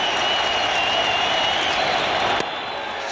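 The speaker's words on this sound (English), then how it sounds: "The crowd already rocking and rolling for Wagner" A baseball stadium crowd at a 2006 Opening Day game between the Washington Nationals and New York Mets roars and applauds in a steady, dense wash of cheering, with a brief knock near the end.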